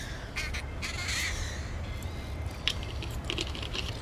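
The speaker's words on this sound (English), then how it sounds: "Birds." Crows cawing in a game world in the video game Rogue Trader, several harsh calls scattered over a steady low ambient hum, at moderate distance with no talk.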